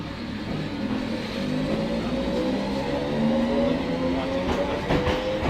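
A three-car Class 318 electric multiple unit passes through Dumbarton Central station, a steady broad rumble with rising wheel and motor tones, close and loud throughout with faint rail clicks near the end.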